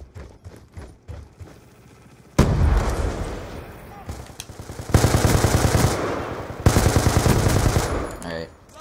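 Gunfire in a video game: after quieter sounds, loud bursts of rapid automatic fire come in three long stretches, close and dense.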